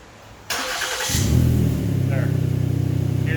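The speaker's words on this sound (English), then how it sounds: "Hear the exhaust leak on here." A 2013 Lincoln MKX with an exhaust leak cranks and fires up, then settles into a close, rapid idle with a pulsing, ticking exhaust rhythm; a voice is heard faintly early on.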